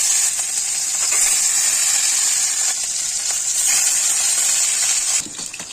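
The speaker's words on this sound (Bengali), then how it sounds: "এক এক করে মাছগুলো ছেড়ে দিচ্ছি" Pieces of katla fish frying in very hot oil, a loud continuous bright sizzle that holds steady throughout and drops off suddenly near the end, with no talking.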